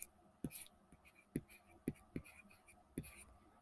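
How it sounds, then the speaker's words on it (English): A pen moves across paper while algebra is worked out by hand for an RC circuit derivation, producing a few quick, distinct strokes and taps close by over a quiet room with no speech. "I'm going to write it like this."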